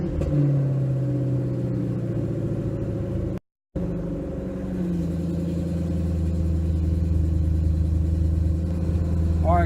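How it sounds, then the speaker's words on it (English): A Ford Mustang engine cold-starting: a steady, loud low rumble with a brief cutout of silence, then the engine settling into a sustained idle with a deep, throbbing drone close to the microphone. "We'll do a little cold start."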